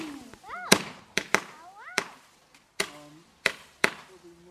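Sharp firework bangs at an outdoor home firework display, about eight loud cracks spaced irregularly over a few seconds, with whistling rising tones between some of the explosions.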